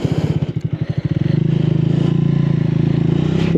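A 2026 Triumph Speed 400 350cc motorcycle pulls away close by, its engine first chugging in distinct pulses and then rising into a loud, smooth, steady drone as it gets under way.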